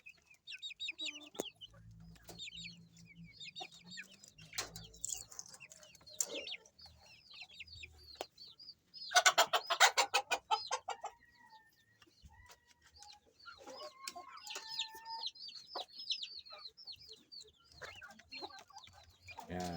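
Silky crossbreed chicks peep and cluck in short, scattered bursts, close and fairly soft, with a brief louder flurry of chirps midway and quiet pauses between calls.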